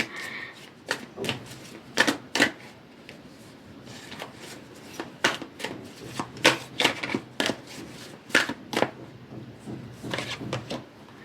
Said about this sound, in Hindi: कार्ड्स गिर रहे हैं यहाँ पर।